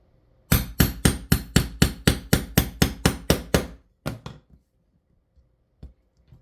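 Eleven rapid, evenly spaced hammer blows ring out on a punch through a plate for a bag rivet, then two or three slower taps follow before quiet, with a faint knock at the end.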